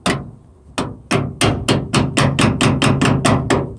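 Close, loud metal hammering on a small welded steel patch panel for a rust hole repair, struck by the welded nibs: about a dozen sharp ringing blows that start sparse, then quicken into a steady even rhythm, with no talk.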